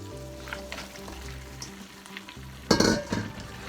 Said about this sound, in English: So my curry burn off now, so I'm gonna put in the beef.